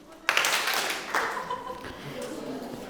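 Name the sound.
audience clapping once on request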